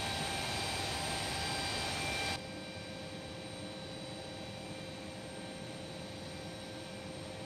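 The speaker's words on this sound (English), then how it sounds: "Starting pushback, and you may start engines." Steady broadband roar of Embraer E175 jet engines starting during pushback in the X-Plane 11 flight simulator, loud and constant, dropping to a lower, even hum partway through, with no talk.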